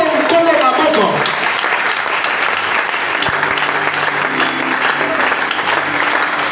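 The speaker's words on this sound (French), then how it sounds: "tu acclames d'abord très fort pour les Seigneurs" A church congregation at a Bible seminar applauds and cheers loudly for the Lord, with dense, steady clapping and crowd voices throughout, while a voice talks over the top.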